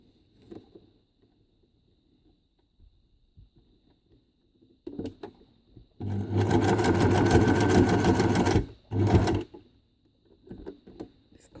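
A sewing machine runs a zigzag stitch across scrap fabric for rope flowers, a steady loud whirring burst of about three seconds after quiet handling noises, then a brief pause and a short second run.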